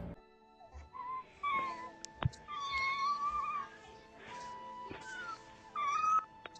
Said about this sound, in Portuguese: eu vou colocar o áudio pra vocês escutarem o momento em que ela faz essa atrocidade com o gato